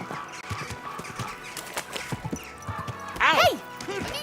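Horse hooves clopping with a brief whinny from a horse in the medieval video game Kingdom Come Deliverance II, the neigh rising clearly near the end amid a steady game ambience with speech nearby.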